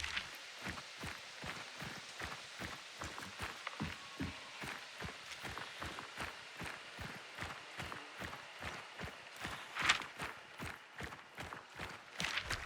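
Footsteps in the video game Hunt: Showdown, two sets of steps thumping in a steady, brisk rhythm, close and fairly loud, with a brief sharper knock near the end.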